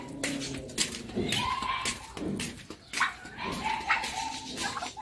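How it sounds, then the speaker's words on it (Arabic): A dog whines and yips in high, drawn-out cries outdoors near a garden plot, repeating over several seconds amid rustling and faint background voices. "سمع صوت الكلب"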